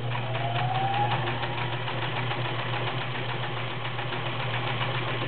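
A Kenmore free arm convertible sewing machine, model 1232, runs a stretch stitch with a steady, close mechanical whir and fast rhythmic needle clatter throughout, with no voices.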